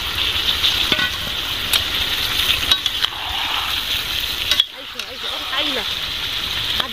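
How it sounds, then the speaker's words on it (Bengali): Potatoes tossed into chicken and stirred in a hot pan, giving a steady loud sizzle with scraping stirs throughout and a brief dip partway. "আলুগুলো দিয়ে দিচ্ছি, মাংসের মধ্যে কষে নেব।"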